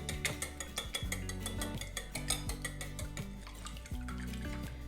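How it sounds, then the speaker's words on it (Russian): Rapid rhythmic clinking of a utensil against a bowl as egg and melted butter are whisked together, close and quiet, continuing steadily. "Соединяем теперь яйцо с растопленным сливочным маслом. Оп. Перемешиваем."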